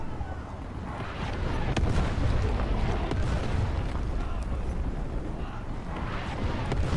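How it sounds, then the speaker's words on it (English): Artillery shells from War Thunder Mobile hitting a T29 heavy tank, heard as a continuous heavy rumble of deep booms and rolling blasts at close range. "And watch their artillery just hitting my tank."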